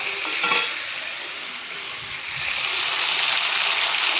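Hot water poured into a kadai of well-fried masala, bursting into a steady, close broadband sizzle and hiss that swells slightly near the end.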